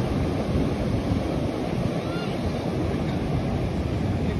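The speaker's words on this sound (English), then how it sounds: "See the waves." Ocean surf rolls steadily against the shore of Kolwa Beach in monsoon rain, a dense continuous roar blended with gusting wind buffeting the microphone.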